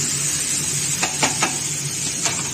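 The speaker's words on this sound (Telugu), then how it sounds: "బాగా కలుపుకున్నాం కదా, ఇలా బాగా కలుపుకోవాలి" Corn kernels being stirred in a hot pan on the stove for corn fry, a low steady sizzle with a few sharp spoon scrapes against the pan.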